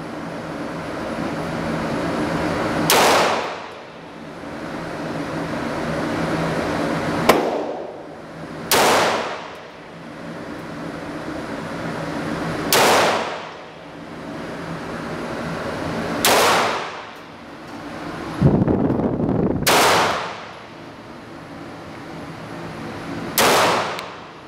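Gunshots from a Walther PPX pistol at a shooting range, six loud, sharp reports spaced several seconds apart with echoing decay and steady background noise between them.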